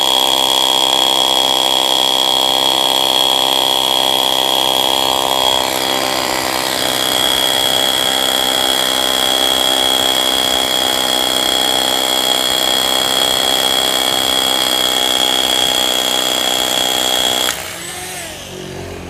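A WORX WU326P concrete hammer drill runs steadily with a loud, dense whine for about seventeen seconds, then stops abruptly near the end. No one talks over it.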